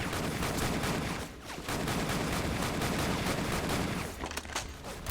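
Dense, rapid gunfire in the Avatar video game, a loud continuous fusillade of overlapping shots with a brief dip midway, then firing resumes with scattered bursts.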